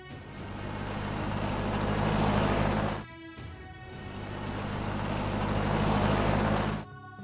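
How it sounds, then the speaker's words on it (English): Cartoon car engine sound: a broad, loud motor roar that swells over about three seconds, breaks off briefly, then builds again and stops, with music-like tones faintly underneath. "Car."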